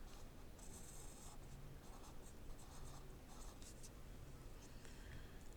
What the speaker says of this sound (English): I'm going to draw my tape diagram.